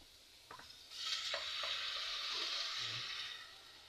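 Chicken sautéed in a pan for homemade egg noodles makes a close, steady hissing sizzle that swells after a few light clinks and stirring sounds.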